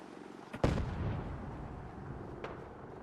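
Missile launch in a video game, fired at the Brotherhood: a sharp, loud blast followed by a roaring, rumbling whoosh that trails off, with a fainter second thud later.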